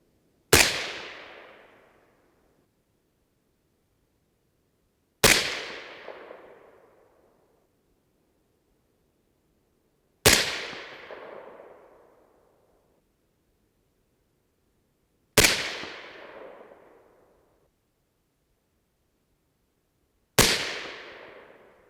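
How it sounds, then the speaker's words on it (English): Five suppressed 6.5 Grendel rifle shots fired outdoors at slow, even intervals of about five seconds, each a sharp crack that trails off into a brief decay, with quiet between them. "Let's keep shooting."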